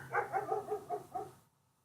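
Dog in an Unreal Engine zombie game template, a quick run of about six faint yips or barks that stops abruptly.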